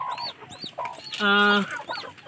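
An Aseel Shamo hen at her nest gives soft, repeated clucks close by, broken by one longer, louder drawn-out call in the middle, with quiet background noise.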